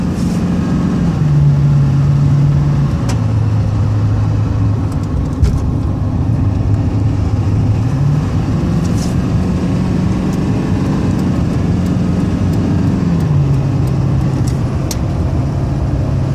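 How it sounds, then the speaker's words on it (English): A GMC Sierra 2500HD with a 6.6L turbo diesel cruises on a highway, its steady low drone loud and continuous, with engine pitch stepping up and down through several shifts. "Let me get the truck on the highway so you can hear it run."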